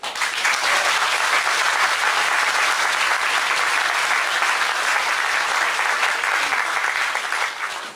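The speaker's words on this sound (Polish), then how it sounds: "i też bym prosił o wielkie brawa dla posła Roberta Winnickiego." Sustained, dense applause from a large crowd, loud and even throughout without pause.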